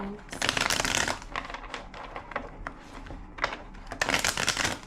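Several quick bursts of cards riffling and shuffling, close up, with short pauses between the shuffles.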